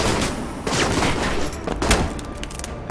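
Gunfire rings out in the Alpha Protocol video game as two enemies are shot at close range: a dense, loud run of overlapping shots and booms across a few seconds, with no talking.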